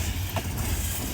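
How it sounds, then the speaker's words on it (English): A long short-line railroad train rolls past nearby, giving a steady, continuous rumble and clatter of rail cars with no break. "That is a long train."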